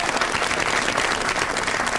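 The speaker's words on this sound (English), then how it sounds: "You may applaud that." Studio audience applause on a late-night comedy talk show, a dense, steady wash of clapping that holds evenly for the whole two seconds with no voices over it.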